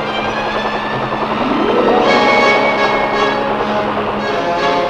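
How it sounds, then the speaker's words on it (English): Loud, steady rotor drone of a Chinook twin-rotor helicopter, a deep throbbing roar with a slight rise in pitch midway. "most aerial delivery of these field pieces is being accomplished by huge Chinook helicopter sling delivery"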